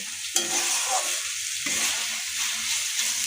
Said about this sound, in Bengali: আমি ভেজে রাখা আলু আর সয়াবিনটা এই মশলার মধ্যে দিয়ে ভালোভাবে কষাতে থাকবো